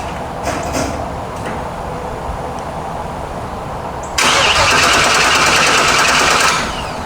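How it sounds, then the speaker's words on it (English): An LS-swapped car's engine on a cold start: a few seconds of low cranking rumble, then a sudden loud, broadband roar as it catches and revs briefly before settling back to a rougher idle, close to the listener. "I am indeed about to do a cold start. Batteries on. Cold start."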